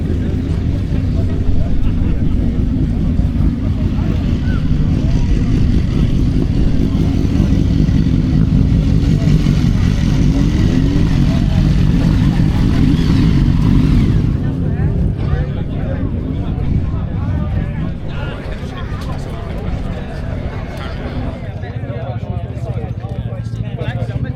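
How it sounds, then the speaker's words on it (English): A Triumph Speed Twin and a Ducati V4 motorcycle riding on the road, a loud continuous engine roar with wind rush that eases and shifts tone midway, heard close from on board with talking over it. "Two bikes I know well, a Speed Twin and a V4 from Ducati."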